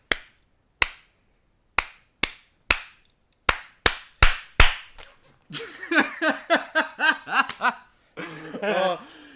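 Sharp hand claps ring out one at a time, slow at first and then quicker, in a playful clapping routine, followed by bursts of laughter and chuckling from people nearby.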